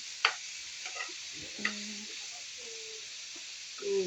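Chopped vegetables for pakbet get stirred in a frying pan, a few soft scrapes and clinks over a faint steady sizzle, close and quiet, with no talking.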